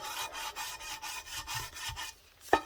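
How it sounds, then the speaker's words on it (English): Sandpaper wrapped on a soft wood block rubbed back and forth along the edges of an Alfa Romeo OZ Monza three-piece wheel, a close rhythmic rasping with one sharp knock at the end. "It's like a nice easy way of just taking some sandpaper on it and"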